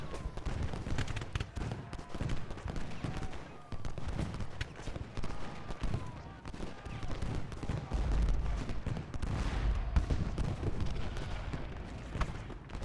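Battle in the Civil War strategy game Ultimate General Gettysburg: scattered cannon booms and crackling musket volleys roll continuously at a distance, fairly quiet, with dense irregular bursts and low thuds throughout.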